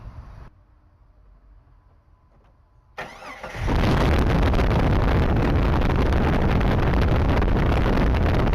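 Close by, a Jeep engine cranks briefly after a quiet stretch, catches and roars into a loud, steady idle that carries on to the end.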